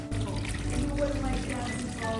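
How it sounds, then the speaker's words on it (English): Running tap water fills a sink where cut potatoes are rinsed in a home kitchen, a steady, close rushing stream lasting throughout with slight variations as hands move the potatoes. "I'm gonna rinse them really well, and then once I rinse them, I'm gonna fill them with water, very cold water"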